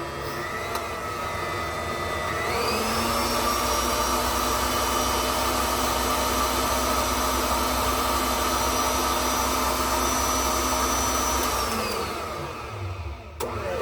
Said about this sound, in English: we're just going to let this mix for a minute, and then we're going to shut it off and let it sponge